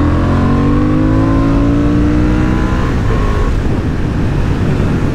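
A Honda Hornet 750 motorcycle engine revs hard, its pitch climbing steadily through third gear before easing off into a rough, rumbling drone.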